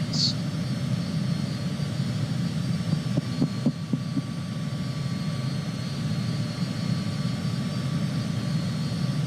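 Twin jet engines of a Cessna CJ4 in Microsoft Flight Simulator 2020 give a steady, even cockpit hum and whine, with a few faint clicks partway through.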